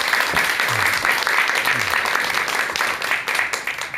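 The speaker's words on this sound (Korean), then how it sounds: "자, 그럼 큰 박수와 함께 전현수 박사님의 강의 청해 듣도록 하겠습니다." Steady, full audience applause greets a psychiatrist arriving to lecture, dense clapping held at an even level throughout, with a few faint voices beneath.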